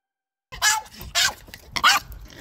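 After a brief silence, a dog barks three times, close and loud, with short even gaps between the sharp barks.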